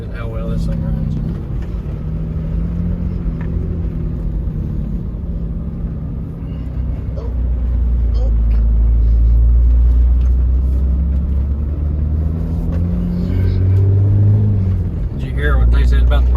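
A green cabover truck's engine idles with a steady low rumble that swells to a stronger, fuller drone partway through, with someone talking over it.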